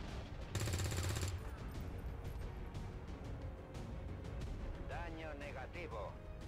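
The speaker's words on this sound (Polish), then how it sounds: "Możemy jeden strzał oddać." A quick burst of rapid gunfire in XCOM 2: Long War 2, then scattered shots and electronic effect sounds, with steady background noise throughout.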